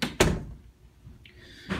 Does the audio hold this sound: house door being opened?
yes